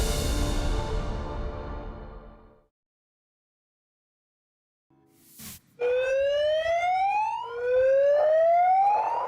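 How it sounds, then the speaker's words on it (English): Flood sirens blare in Russia near the Kazakhstan border, a loud rising and falling wail that swells repeatedly after a fading tone and a brief pause. "Those are flood sirens blaring in Russia near the Kazakhstan border."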